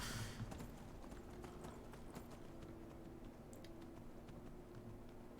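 A ridden horse's hooves clatter in Skyrim, a fast, even clip-clop of many quick strikes that runs continuously at moderate loudness over faint game ambience.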